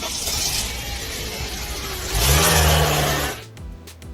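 A car engine revs hard and loud, rising in a strong mid-range surge and then cutting off abruptly, as a vehicle sits stuck after backing into something.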